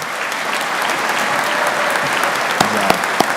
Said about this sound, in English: Let's give the graduates a round of applause while I find my notebook.